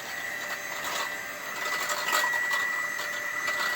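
A hand mixer whirs steadily on low speed, blending ingredients in a bowl; the motor drone is moderately quiet and even.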